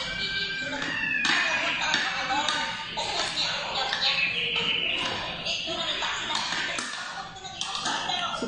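A house cat meows repeatedly in a series of close, fairly loud calls that run through the whole stretch, mixed with some indoor shuffling and tapping.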